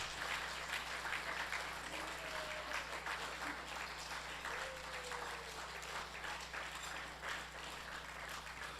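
Steady applause from an audience at a synagogue annual meeting, clapping for seated staff, a dense even patter of many hands held at moderate level throughout without pause.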